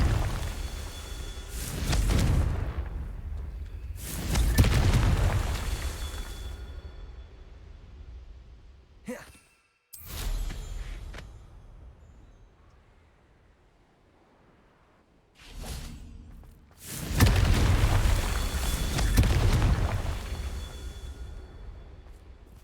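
Confringo blasting-spell explosions in Hogwarts Legacy: several loud, roaring bursts swell and fade one after another, each with a whooshing rush of noise, separated by quieter stretches.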